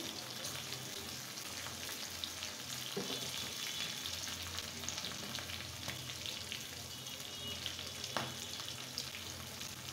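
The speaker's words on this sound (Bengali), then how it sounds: "আর কাঁচা মরিচটা কিন্তু এভাবে ভেজে দিলে খুব ভালো লাগে খেতে।" Green chilies fry in a pan with a soft, continuous sizzle and crackle, quiet and even, with a few light clicks of stirring.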